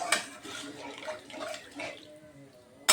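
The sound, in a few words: water being poured into cauliflower dhokla batter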